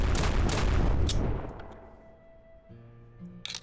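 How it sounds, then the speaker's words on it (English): A single loud shotgun blast fired into the sky in the video game SurrounDead, booming and then fading into a long tail, with another sharp sound at the very end. "Just going to go ahead and fire a random shot there into the sky."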